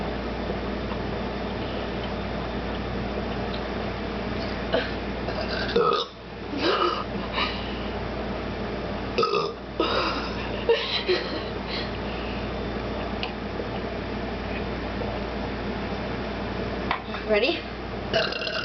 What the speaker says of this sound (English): I can't even burp anymore.